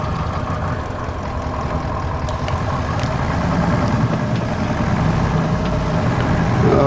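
A small tractor engine idles and chugs steadily close by with a low rumble in a vineyard, and faint clonks of old gears come through now and then. No one speaks.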